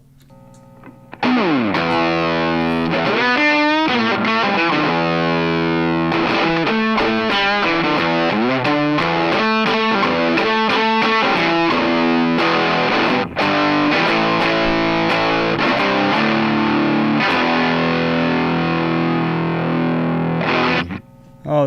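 An electric guitar on the bridge pickup runs through a Silt Harmonic Fuzz pedal, pouring out a loud, continuous stream of gritty, harmonically rich fuzz riffs and chords for about twenty seconds, with no voices.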